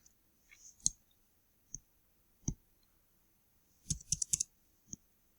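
Calculator keys pressed one at a time, sharp close clicks spaced irregularly, then a rapid cluster of presses near the end, with no talk.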